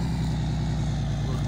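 A truck engine idles and rumbles close up while being parked in the attached garage of a landscaping shop in Farming Simulator 19, a loud steady low throb with faint rhythmic pulsing throughout.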